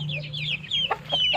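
Close chickens cluck and chirp in quick, repeated high calls over a low steady hum, no talking.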